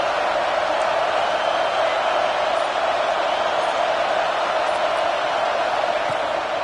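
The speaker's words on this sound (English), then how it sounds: "This crowd bringing the energy and noise early." A football stadium crowd cheers loudly and steadily, forming a dense, unbroken wash of roaring voices with no clear pauses.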